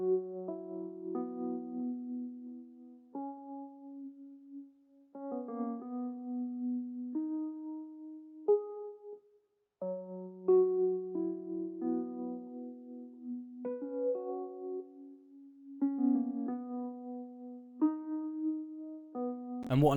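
Low, gloomy electric 'whirly' piano sample in FL Studio, treated with chorus, delay and reverb for an 80s RnB feel, playing repeating chord phrases steadily for the whole stretch with no voices over it.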